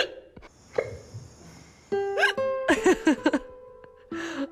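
A person hiccups repeatedly in short, voiced, squeaky bursts that come in quick clusters, loud and close, with no speech between them.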